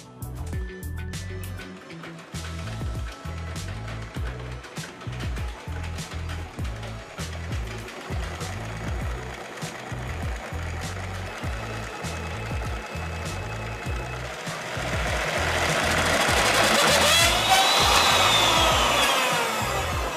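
An electric mixer whirs steadily through waffle batter in a home kitchen, a loud continuous motor drone with rhythmic low pulsing that rises in pitch and intensity toward the end, no talk over it.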